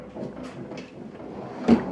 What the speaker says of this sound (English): Next up is the electrical drawer.